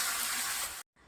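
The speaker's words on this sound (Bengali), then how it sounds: "এর মধ্যে মাছগুলো আমি ভেজে নিচ্ছি এখন" Fish fries in hot oil with panch phoron in a kitchen wok, a soft continuous sizzle that cuts off abruptly near the end, leaving only faint background noise.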